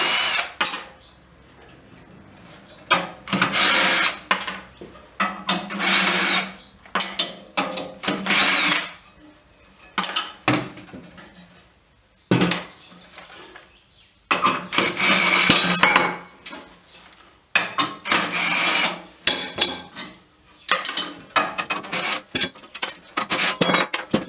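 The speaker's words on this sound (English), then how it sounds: "I like to use the cordless drill whenever I can because it's just much faster." Cordless drill removing M6 nuts during disassembly, a series of short whirring bursts, some quick and some longer, separated by pauses with small clinks of parts being handled.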